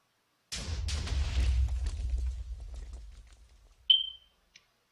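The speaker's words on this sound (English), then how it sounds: "The Inferno missile, it's the same as the regular missile, just with fire afterwards." Inferno missile blast in Minecraft with HBM's Nuclear Tech Mod: a loud, booming explosion with a rumbling low tail fading over a few seconds, followed by a short high chime and a faint click.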